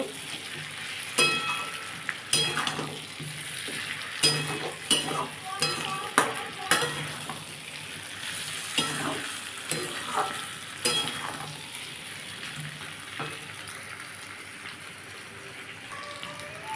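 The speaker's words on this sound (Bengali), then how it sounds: "এর মধ্যে আমি এবার ডাটাগুলো দিয়ে দেবো দিয়ে আবার একটু কষে নেব" A spatula stirs vegetable stems into a simmering fish curry masala, with repeated scrapes and clacks against the pan over a soft, constant sizzle, close and moderately loud.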